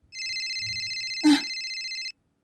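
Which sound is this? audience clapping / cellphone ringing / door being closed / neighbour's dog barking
cellphone ringing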